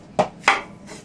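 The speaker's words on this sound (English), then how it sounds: "You cut my mushroom." A knife chopping through a mushroom on a board in a home kitchen, two sharp close cuts followed by a fainter third, each a quick crisp thud with no talking.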